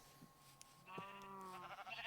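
Sheep bleating in Minecraft, a few short wavering bleats with a longer drawn-out call near the end, moderately close and alone over faint game ambience.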